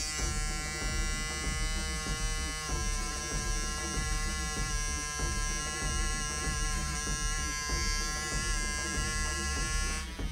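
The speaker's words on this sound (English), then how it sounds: "now is when we'll be using old Peggy's stitch remover" An electric stitch remover buzzes steadily and loudly while taking a stitched logo off a Rick Owens x Champion garment, a continuous motorized whine with faint rhythmic pulsing and no talk.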